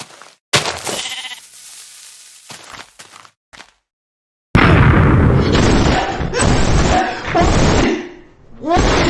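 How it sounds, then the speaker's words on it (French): Loud booming Minecraft explosions rip through after a brief silence, thick and rumbling, with earlier sharp bangs and gaps between bursts. "Ça, c'est bien comme bruit d'explosion."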